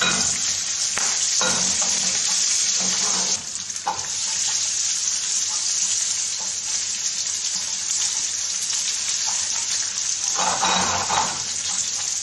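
Sliced alheira sausage and potato frying in a pan as onion is added, a continuous hiss with scraping stir sounds and brief bursts of louder sizzle, close by, with no voices.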